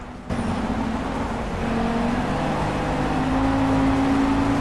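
A race car engine powering out in the video game Project Cars, a steady close drone that rises gradually in pitch as it accelerates, with no talk over it.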